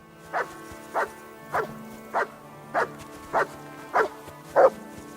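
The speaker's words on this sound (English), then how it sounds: "Why are you barking?" A dog in the video game Kingdom Come Deliverance 2 barks eight times in an even, steady rhythm, each bark short and moderately loud over a quiet background.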